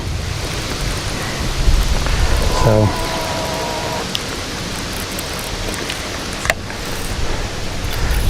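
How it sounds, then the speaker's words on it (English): Thunderstorm rolling in over a river and creek during a fishing outing, steady heavy rain hiss with a sharp thunder crack and a couple of distant rumbles, and a voice speaks briefly. "we had a big storm come up."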